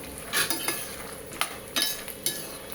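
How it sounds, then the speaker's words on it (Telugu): Peanuts frying in hot oil in a pan give a steady soft sizzle, with a spoon clinking and scraping against the metal every half second or so, close up. "పల్లీలు బాగా ఫ్రై అవనిద్దాం."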